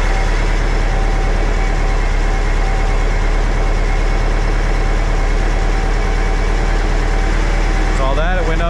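A VW Bus engine with dual carburetors idles steadily and loudly during carburetor synchronizing, a continuous even drone with a brief mechanical warble right at the end.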